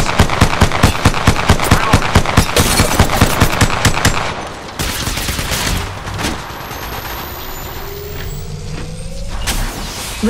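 Rapid automatic gunfire from an enemy squad in Apex Legends rattles loud and close for about four seconds, then gives way to mixed game effects and whooshing tones.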